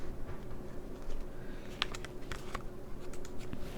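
Someone types on a computer keyboard, a run of light, irregular key clicks at close range over a quiet room hum.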